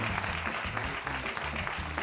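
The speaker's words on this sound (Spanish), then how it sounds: "Muy bien, el aplauso." A studio audience at a comedy show gives brief, steady applause, a faint, even patter of many hands over low rhythmic music for about two seconds.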